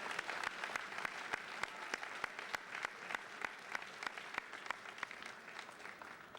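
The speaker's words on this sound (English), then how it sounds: "Give them a round of applause." Audience applause for parents standing at a high school honors assembly, steady clapping from a large crowd across the hall, moderately loud with sharp individual claps standing out throughout.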